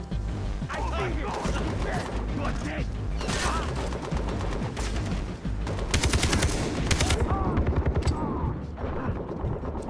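Gunfire in the video game Far Cry 3, with dense rapid bursts of shots and mechanical clatter filling the whole stretch, loud and continuous, growing into sharper repeated volleys near the end.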